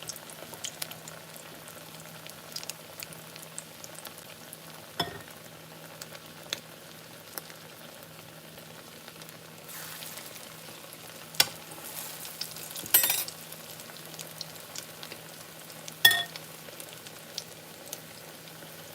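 Salmon patties frying in grease, a faint steady sizzle with scattered sharp pops and clinks of a utensil against the pan, heard alone at low volume.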